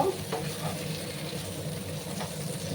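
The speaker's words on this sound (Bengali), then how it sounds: "আর গ্যাসের আঁচটাকে হাই করে আমি ঝিঙেগুলোকে ভাজা ভাজা করে নেব" Sliced ridge gourd frying in a pan over high heat, giving a constant moderate sizzle with faint crackling and a few soft clinks.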